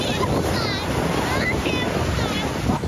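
Surf rolls onto a beach at Jinlun, Taitung, on a scorching summer day, a loud, close, steady rush of waves buffeted by wind noise, with children's voices calling faintly in the background.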